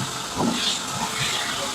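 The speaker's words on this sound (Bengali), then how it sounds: "এবার এই তেলের মধ্যে আমি ভেন্ডিটা ভেজে নেবো" Okra fries in hot oil in a home kitchen, producing a continuous, even hiss close by with faint background murmur.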